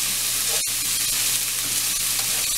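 Plump Cajun shrimp fry and sizzle in a pan, a steady crackling hiss with a sharp click from a utensil stirring early on, close and loud with no talking.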